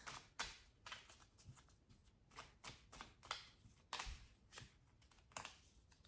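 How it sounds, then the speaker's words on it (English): Tarot cards are shuffled close by in quick riffles and soft slaps, a series of crisp bursts with short pauses between them. "I'm going to shuffle these cards"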